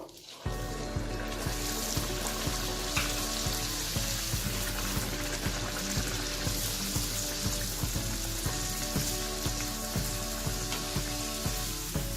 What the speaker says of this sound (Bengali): আমি আরেকটা ভেজে নেব।